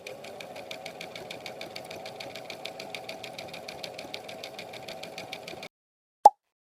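A sewing machine runs a fast, steady stitch along a seam close to the fabric edge. The needle beat is even and close, then it stops abruptly and a single sharp click follows.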